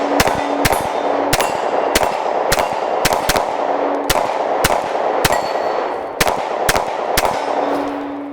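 A Glock 23 pistol fitted with a red dot sight fires about fourteen sharp, loud shots in an uneven but steady cadence, with roughly half a second between shots. A faint metallic ring hangs between them, and no one speaks.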